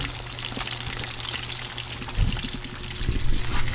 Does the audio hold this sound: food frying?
yes